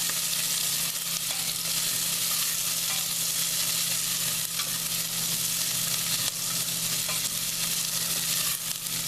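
Cabbage frying in a pot gives a dense, loud, unbroken sizzle with constant fine crackling and popping. A steady low hum runs underneath and no one speaks.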